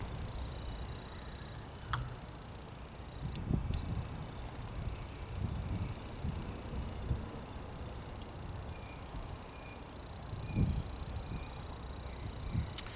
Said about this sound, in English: It's windy out here. Sorry for the wind.